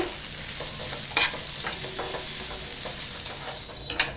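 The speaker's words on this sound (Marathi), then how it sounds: "त्यात आपण ना दोन चमचे तेल टाकायचं आहे कांदा छान गुलाबी होईपर्यंत ना भाजून घेऊया" Onion frying in oil in a pan for a Malvani-style masala paste, a soft steady sizzle with occasional stirring scrapes and a couple of sharper clinks, no talk.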